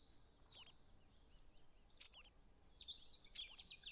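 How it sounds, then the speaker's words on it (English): Bushtit calls in the Wingspan bird board game: three quick bursts of high, thin chirps and twitters spaced about a second and a half apart, faint and clean against near silence. "What kind of noise does a bush tit make?"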